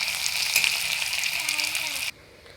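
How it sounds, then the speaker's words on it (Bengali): Onion-paste fish curry frying in a pan: an even, loud sizzle for about two seconds, then it cuts off abruptly to a quieter background. "আমি এইভাবে আরও অল্প ভেজে নেব"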